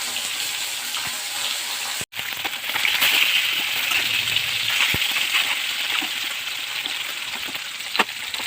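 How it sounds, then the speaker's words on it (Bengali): Koi and magur fish rinsed under running water in a home kitchen, with a steady close wash of splashing and trickling that runs throughout, broken by a brief cut near the start. "এখানে কই মাছ আর মাগুর মাছ এনেছিল, মেয়ে খাবে বলছিল, তাই এটা ধুয়ে নেব।"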